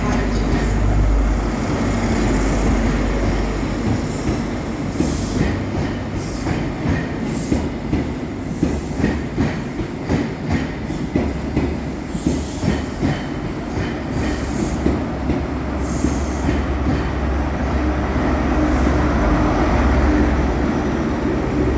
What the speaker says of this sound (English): Next in sees the arrival of 43138 top and tail with 43183